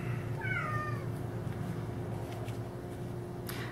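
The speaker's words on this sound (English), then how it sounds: "Got a very rambunctious little kitten running around." A small kitten gives one high, rising-falling meow early on, then background hum and quiet room noise follow.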